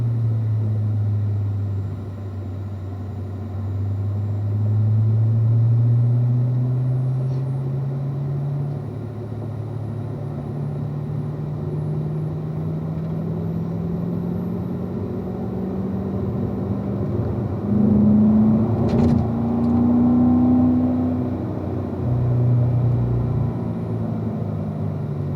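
A car lapping the Spring Mountain race track, its engine droning steadily and rising in pitch as it accelerates, with a continuous rumble and no talk throughout.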